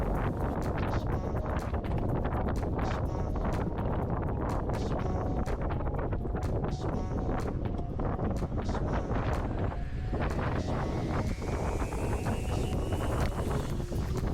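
Strong northwest wind, force 4 gusting 5 under dark clouds, roars across a small sailboat sailed solo, with heavy buffeting on the microphone and rushing water noise throughout.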